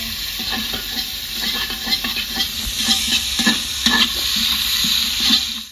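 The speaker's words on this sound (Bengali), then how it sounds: "এটা ঘিয়ে ভাজা হলো, কাজু কিশমিশ দারচিনি লং এলাচি যা ছিল এটাতে আমরা ঢেলে দিলাম" Ghee-fried cashews, raisins, cinnamon, cloves and cardamom poured into rice frying in a pan, producing a busy close sizzle with repeated scraping stirs and clinks of the spoon against the pan.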